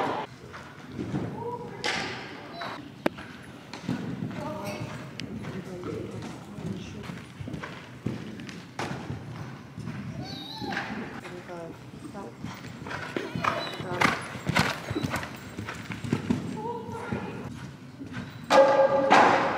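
A young horse's hooves thud and clip-clop over a show jumping course, with scattered heavy thumps and occasional snorts. People talk and call out over much of it.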